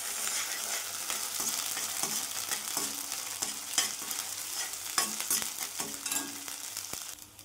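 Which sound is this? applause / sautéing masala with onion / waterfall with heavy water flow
sautéing masala with onion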